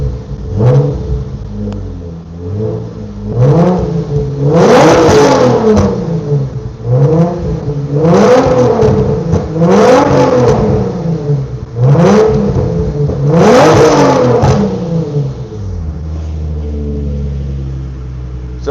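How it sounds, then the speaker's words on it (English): Infiniti VQ-series DE engine with aftermarket exhaust, revved repeatedly in a steady rhythm of about six loud, close blips rising and falling, then settling to a low idle rumble. "you hear that? This is a VQ2 Infiniti, but this is a DE motor. So we got exhaust"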